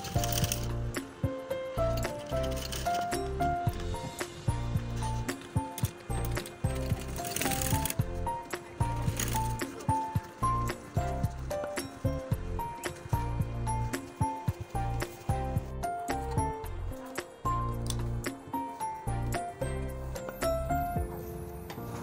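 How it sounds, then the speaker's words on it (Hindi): A sewing machine stitches trouser fabric for a tie-knot trouser, with a busy rhythmic mechanical clatter of needle and gears running in close, loud bursts with brief pauses throughout. "अब यहाँ पर भी एक सिलाई लगा लेंगे।"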